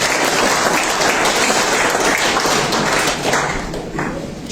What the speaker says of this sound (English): Round of applause for Trevor Barry and Lily Stokes.